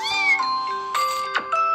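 Cats in a mobile cat game meow in short, bright, electronic-sounding calls, several in quick succession, up close and clear with no talk.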